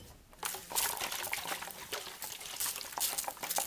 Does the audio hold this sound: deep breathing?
no